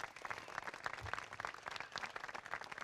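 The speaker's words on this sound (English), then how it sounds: "Can we all give them a round of applause?" An outdoor crowd at a memorial restoration ceremony claps for city council members, a thin, uneven patter of hands fairly faint and at some distance, with no talk over it.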